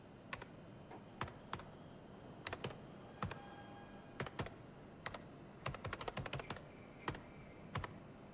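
In-game keyboard key-press sound effects in a hacking-themed video game, sharp clicky taps in irregular bursts, sometimes single, sometimes quick clusters, crisp and close with quiet background between.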